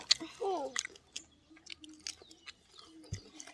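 Close-up chewing and crunching on crispy fried spring rolls eaten with red pork and vegetables, moist bites and soft crackles with a brief voice at the start.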